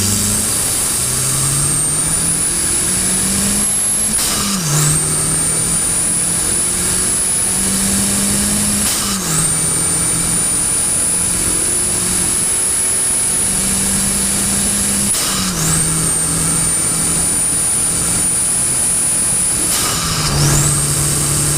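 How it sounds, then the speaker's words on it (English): A 1.8T turbocharged car engine fitted with an open air filter revs repeatedly, each rise carrying a rising turbo whistle that drops off abruptly between pulls, loud and close with steady idle rumble underneath. "we've got this big dirty stinking air filter, which does actually sound the nuts"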